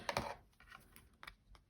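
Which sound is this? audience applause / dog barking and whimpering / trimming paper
trimming paper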